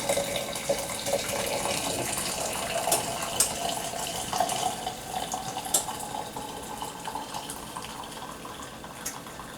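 Liquid pouring in a steady, continuous stream with splashing and gurgling, close by and moderately loud, no voices.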